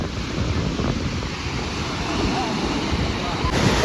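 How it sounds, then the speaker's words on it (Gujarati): Sea waves roar continuously onto the shore at Somnath, a loud, dense rush mixed with wind buffeting the microphone, with no distinct breaks. "દરિયો કેટલો ઘૂઘવાટા કરે હે"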